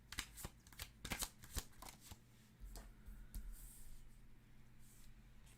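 Tarot cards are shuffled and drawn close by, a quick burst of riffling flutters and slaps followed by softer sliding and handling sounds, with no talk.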